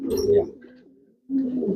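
Long-distance racing pigeons coo inside a loft, low throaty rolling calls close by, in two bursts separated by a brief lull.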